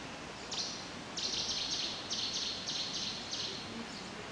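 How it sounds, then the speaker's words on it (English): Bright, high chirping bird song in short repeated bursts from a small birch-tree park near the Mount Hermon springs, over a soft steady background hiss, moderately near and clear. "Birds singing. Wherever there's trees,"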